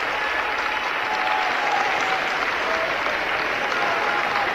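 Sustained, steady applause from a large audience for an Italian singer at the 1972 Eurovision Song Contest in Edinburgh, a dense, even roar of clapping throughout.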